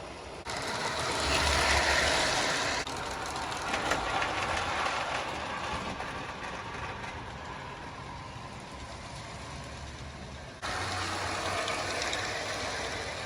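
Steady rumbling and rattling of a vintage model train, Lionel pipe flat cars from the late 1940s and early 1950s, running continuously on metal track close by, with a brief pause in the clatter near the end.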